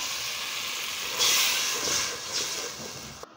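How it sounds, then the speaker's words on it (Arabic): Water boiling in a pot for cooking pasta, a steady hissing, bubbling rush that swells midway and carries on alone before cutting off abruptly. "الميه بتاعتنا بتغلي اهي"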